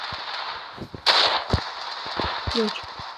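Rapid bursts of synthetic gunfire in the video game Standoff 2, with sharp pops and a hissing blast, layered over a constant electronic hum.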